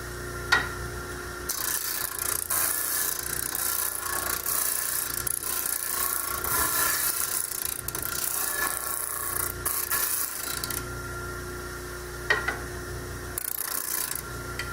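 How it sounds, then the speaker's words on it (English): A disc sander grinds against wood, shaping table legs, with a continuous harsh rasp, broken by a few short pauses and knocks. "Takes a while for the disc sander to come to a complete stop"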